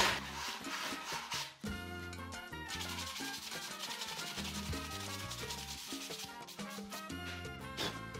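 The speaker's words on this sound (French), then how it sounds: "On passe maintenant un petit coup de ponçage pour retirer les petits défauts de coupe." Close, steady sanding on a wooden shelf smoothing rough cut edges, a continuous rasping scrub with brief pauses and shifts in stroke.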